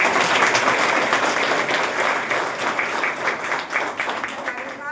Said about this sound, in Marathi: सगळ्यांनी मिळून आपण टाळ्या वाजवून त्यांचं सगळ्यांना